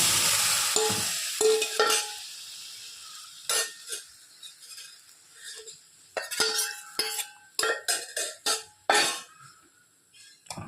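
A curd and spice mixture for ladies finger gravy is poured into a hot pan, giving a brief sizzle, followed by spoon stirring and clinks against the pan in irregular bursts.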